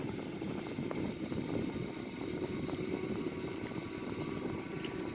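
Engines 3 and 4 of an Airbus A340 spool up into a steady, close, droning rumble with a faint whine, holding even throughout without voices.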